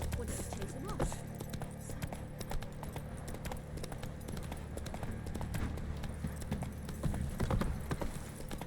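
A horse gallops in The Witcher 3 video game, rapid rhythmic hoofbeats running steadily under game ambience and scattered clatter, close and continuous throughout.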